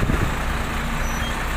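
Heavy diesel rumble of a Sinar Jaya intercity bus pulling away toward Jakarta, a steady close engine drone with low throb and no voices.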